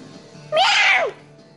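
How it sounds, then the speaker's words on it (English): A cat gives a single clear, drawn-out meow lasting about half a second, close and loud in a quiet room. "That was the cat."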